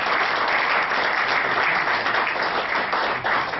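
Sustained, dense audience applause for a performer at an evening awards ceremony, steady and full throughout without a break.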